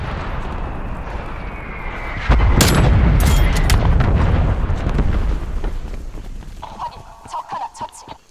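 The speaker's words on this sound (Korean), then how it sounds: "포격 시작해" An artillery bombardment in the video game Call of Duty Black Ops Cold War hits as a heavy booming barrage, loud and rumbling for several seconds before easing into scattered distant thuds.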